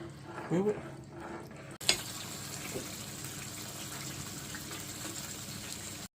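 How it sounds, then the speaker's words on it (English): A cup of water poured into a tomato paste sauce and whisked, with a soft continuous watery stirring and swishing after a short clatter, alone and steady at close range. "Gonna add a cup of water, but we whisking it for 2 minutes"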